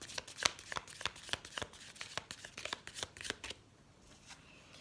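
A deck of elf oracle cards is shuffled for a card reading, giving a quick run of crisp riffling bursts for about three and a half seconds before the sound stops into near silence.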